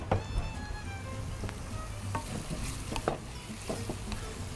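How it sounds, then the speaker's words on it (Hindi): Chopped onions fry in a pan, a steady soft sizzle broken by repeated scraping stirs and spoon knocks against the metal, close up and without voices. "इसको नरम होने तक फ्राई करेंगे"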